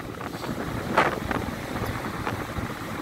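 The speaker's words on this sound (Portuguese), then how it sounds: "Pega muito vento devido a essa curva aí" Steady wind at a Brazilian surf beach, an easterly blowing straight in around a bend in the coast, rushes and buffets the microphone continuously, with one stronger gust standing out near the start.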